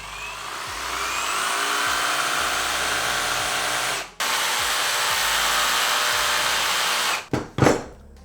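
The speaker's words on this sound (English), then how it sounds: "So basically with the jigsaw, you can really put it up against it and just run it backwards." A jigsaw cutting through a 2x4 wooden board, a loud, steady buzzing rasp running for about four seconds, a brief stop, then more cutting that ends in a few short bursts.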